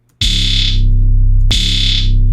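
Hi-hat rolls chopped in music production software into a fast, buzzing stutter, heard as two loud sustained bursts over a deep bass tone, the second starting about halfway through.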